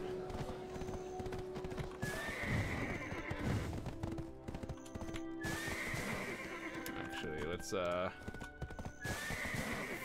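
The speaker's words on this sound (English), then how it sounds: "Why are there so many horses here?" Horses in the MMORPG Black Desert Online, around a busy Calpheon area: steady hoof clip-clop with several drawn-out whinnies and neighs rising over it, while someone talks over the game sounds.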